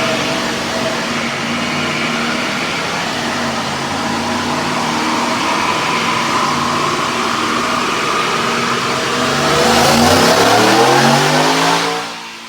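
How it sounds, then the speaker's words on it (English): A Roush TVS 2650-supercharged 2018 Ford F150 5.0 running E85 with Kooks exhaust roars steadily through a dyno pull, the engine note climbing and swelling louder toward the end before dropping off, with no talking. "Check out this dyno pull."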